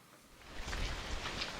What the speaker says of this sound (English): As you can see, it's drizzling pretty hard